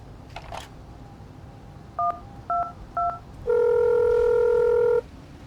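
A payphone keypad is dialed in the video game Accident: a few short touch-tone beeps in quick succession, then a long steady tone, loud and close with no talking.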